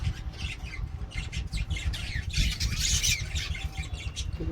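Harsh, raspy squawking from several pet birds in their nest area carries on continuously, with a louder burst of calls midway and constant fluttery background noise.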